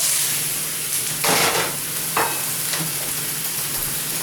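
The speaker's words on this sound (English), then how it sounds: "Just got them on the stove at the moment. Just got to keep on stirring them until they're nice and golden brown" Food for beef goulash sizzles and fries in a pan on the stove, with intermittent bursts of stirring and scraping over a steady background crackle; nobody speaks.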